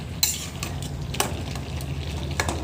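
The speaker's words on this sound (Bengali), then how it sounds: "দেখুন আমরা কড়ার মধ্যে সবজিটা ঢেলে নিয়ে একটু মাখা মাখা করে নামিয়ে নেব।" Vegetables stirred in a kadai over heat, a steady sizzle with a few sharp scrapes and clinks of the spoon against the metal pan, close and continuous with no voices.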